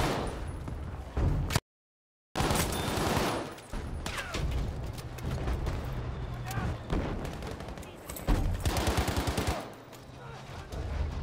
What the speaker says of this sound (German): Schuss auf diese Position!